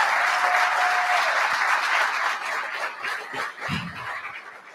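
A banquet crowd applauds loudly and steadily at the Monaghan GAA Gaelic football gala dinner, the dense clapping thinning slightly toward the end.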